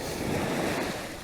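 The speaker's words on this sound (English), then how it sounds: "We've got a nice wave coming in now" Ocean waves wash in over rocks in a steady, loud surge of broadband rushing water with some wind noise, sustained through the whole moment with no voices.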